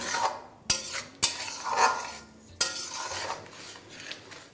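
Spice masala and tomato are stirred in a pan on medium flame, the metal spoon scraping and clinking against the pan in several sharp knocks over a soft, continuous sizzle.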